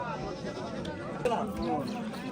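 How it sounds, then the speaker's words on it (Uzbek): A sheep or goat bleats a couple of times nearby amid busy crowd chatter and talking at an Afghan livestock market. "Bitta qo'y, bitta echki."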